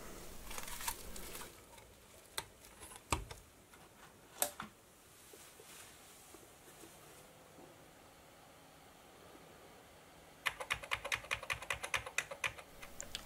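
Keys clack on the keyboard of a retro 486 PC, with scattered isolated taps and then a fast burst of typing near the end, fairly quiet and close.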